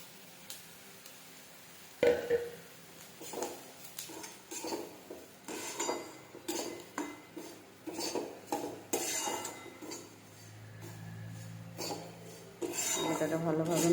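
Semolina being stirred in a metal pan, with repeated scraping and clinking of a utensil against the cookware in an irregular rhythm, close and moderately loud, with no talk.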